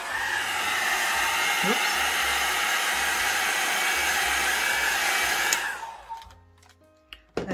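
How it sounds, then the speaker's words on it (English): A hair dryer blows on alcohol ink artwork of a feather, a loud steady close whoosh that cuts off near the end and leaves a short quiet tail with a brief spoken word. "let me dry it"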